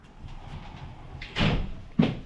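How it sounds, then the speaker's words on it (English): A sliding bathroom door in a holiday apartment in Zadar, Croatia, rumbles open or shut in two short, close bursts after a quiet moment. "We've got a sliding door"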